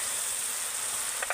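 Ginger garlic paste fries with onion in hot oil, a brief, even, close sizzle with a couple of faint scrapes at the very end.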